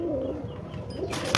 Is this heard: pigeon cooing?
yes